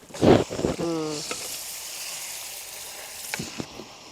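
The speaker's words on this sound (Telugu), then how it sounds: "ఇప్పుడు మనం కలిపి పెట్టుకున్న మాంసాన్ని ఇలా పోసుకోవాలి మరిస్తే నూనె మీద పడుతుంది" Marinated mutton goes into hot oil with fried onions, setting off a loud sizzling burst and splatter that fades into a softer steady hiss of frying.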